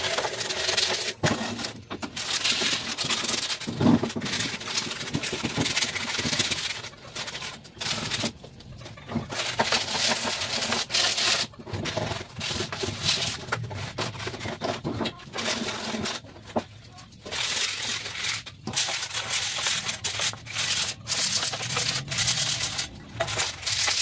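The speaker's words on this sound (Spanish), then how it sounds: "Ahora lijamos." Old wooden chairs being hand sanded during restoration: continuous rough, rasping strokes repeat in a steady rhythm, close and fairly loud, with no talking.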